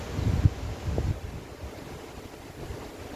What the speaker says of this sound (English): you'll probably hear the sound of the water as I'm making this post